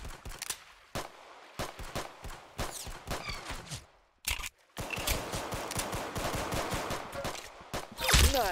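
Gunfire in the Roblox shooter Arsenal, rapid loud bursts and single shots in a fast uneven rhythm, with near-continuous automatic fire through the second half.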